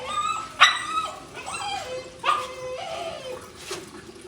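A pet dog barks and yips a few times at close range, the sharp barks separated by whimpering, whiny sounds, with no talking.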